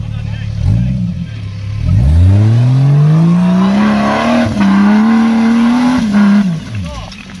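A rally car on a dirt track during a raid event revs up and accelerates past, its engine rising into a loud sustained drone then falling away, with spectators talking nearby.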